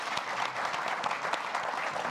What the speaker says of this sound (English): A round of applause, please, for our panelists.